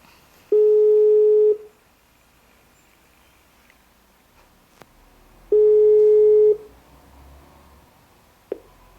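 An Alcatel-Lucent Mobile DECT 400 cordless phone rings in an office, two steady electronic tone bursts about a second long and several seconds apart, clear and close, with quiet room noise and faint clicks between them.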